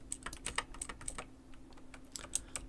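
Keyboard keys and a mouse clicking while someone drives a bus in a Roblox game: quick, uneven taps and clicks, close and quiet over a low steady hum, with no voices.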